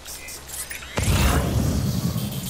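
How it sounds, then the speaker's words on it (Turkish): Rain pouring down in the video game Death Stranding, a dense hiss that starts softly and swells sharply into a loud, steady downpour after about a second, with no talking. "Yağmur dur artık yağmur."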